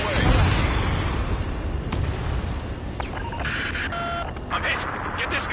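Missile launch and blast in the Ace Combat 7 flight combat game: a loud roaring rush with a heavy boom near the start, then sustained rumble under radio-style chatter and short electronic beeps.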